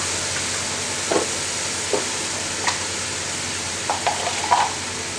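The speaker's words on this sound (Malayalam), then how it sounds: "കുറച്ച് ഉപ്പിട്ട് കൊടുക്കണം, അപ്പോൾ പെട്ടെന്ന് തന്നെ സവാള വഴന്ന് കിട്ടും." Onions sautéing with salt in a pan for a spicy beef curry, a soft, steady hiss with occasional light scrapes and taps from stirring, close and quiet, with no speech.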